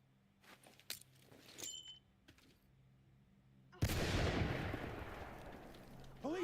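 A flashbang grenade detonates in a tactical police shooter game with a sudden loud blast followed by a long ringing hiss that slowly fades, after scattered footsteps and faint clicks.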